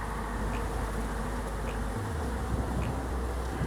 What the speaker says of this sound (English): Hi, busy bees